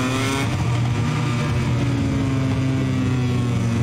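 A motorcycle engine in the MotoGP 21 racing game revs hard and accelerates, a loud, sustained, steadily rising roar that fills the whole clip without any pause or break.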